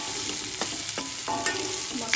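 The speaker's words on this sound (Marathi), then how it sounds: "आता ह्याला आपण हलवून घेऊया मस्त" Ridge gourd pieces sizzle in a pan while a spatula stirs them. Several distinct scraping strokes land about every third of a second over a steady background frying hiss, with no talking.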